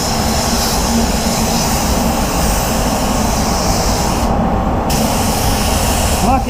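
A spray gun applies Supernova Black Mamba LS-400 basecoat to a Ford Focus, a loud continuous airy hiss with a brief dip near the end, close up.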